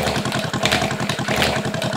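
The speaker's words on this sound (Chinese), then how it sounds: "就是这个东西把鸡蛋放进去可以摇匀" A plastic egg-shaker kitchen gadget rattles an egg inside it, a rapid, regular clattering buzz, close and continuous, rather like a small engine idling.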